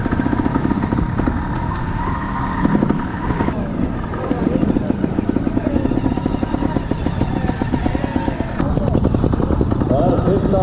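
Trial motorcycle engines drone and buzz steadily as bikes pass nearby at a trial event in Arinsal, Andorra, with choppy revving throughout and voices mixed into the noise.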